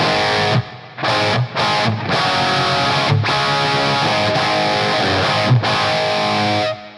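Distorted electric guitar in a brown sound played in chunky chords with short gaps, notes ringing out and blooming into a wash of reverb.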